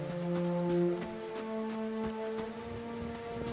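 Steady rain hiss in the fantasy role-playing game Pillars of Eternity, soft and continuous beneath sustained tonal music, with no voices present.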